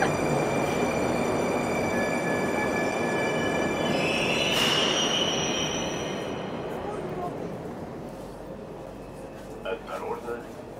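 A Moscow Metro brown line train rumbles past with a steady broadband roar and faint high wheel squeal, the noise easing off toward the end.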